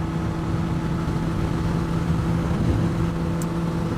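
A 2009 Honda CBR600RR motorcycle cruising steadily on the road, its engine drone and wind rumble constant and close with no spoken words.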